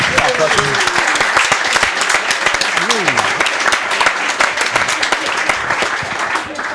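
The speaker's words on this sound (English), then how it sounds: "Round of applause for Patrick" An audience at a football club fans' forum applauds, dense clapping running steadily throughout with scattered voices and whoops underneath.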